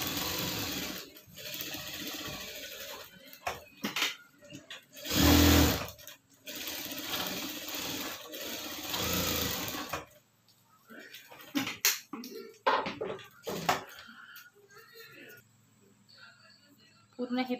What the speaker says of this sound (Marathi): आता मी पूर्ण त्याला साईडून शिलाई मारून घेते.